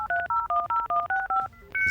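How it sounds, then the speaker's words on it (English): Touch-tone dialing beeps from a Doctor Collector Terminator kit app on a PC, about eight quick evenly spaced dual tones followed by a couple of different connection tones, clear and close with no voices. "Let's dial up."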